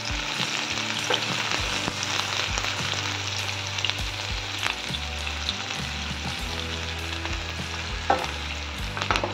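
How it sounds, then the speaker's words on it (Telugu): Chopped onions sizzle and fry in hot oil in a pan for a brinjal and dry prawn curry, a steady crackling hiss broken by scraping, knocking stirs of a spoon against the pan, close and continuous with no talk. "ఆయిల్ వేడెక్కాక ఇందాక మనం చాప్ చేసి పెట్టుకున్న ఆనియన్స్ ఇందులో వేసేసుకోవాలి."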